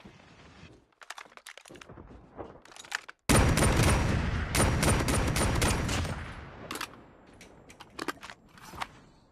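Gunfire in a Call of Duty Mobile battle royale match: scattered sharp shots, then a dense, loud burst of rapid automatic fire for a few seconds, trailing off into intermittent single cracks, with no talking.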